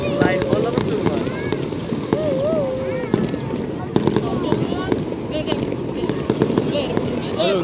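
Fireworks bursting at a downtown Independence Day celebration in Greensboro: a series of distant pops and booms at irregular intervals under a crowd's chatter and nearby conversation, with wind noise.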